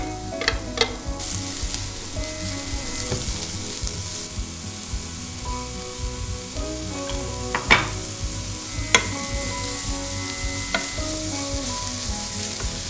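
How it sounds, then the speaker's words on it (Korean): Cucumber stir-fried quickly over high heat in a frying pan for a Korean gujeolpan platter, giving a steady close sizzle throughout with occasional sharp clinks and scrapes of the utensil against the pan. "그냥 센 불에서 얼른 볶아서 그냥 수분을 날려버리셔도 돼요"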